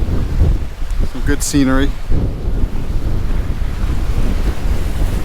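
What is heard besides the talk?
rough sea waves and wind at a beach in Mirissa, Sri Lanka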